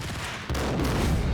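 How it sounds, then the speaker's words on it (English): A sharp, loud shotgun blast in a video game bursts in mid-clip, followed by a dense, sustained rumble of gunfire and impact noise. "We got shotgunned right from the side."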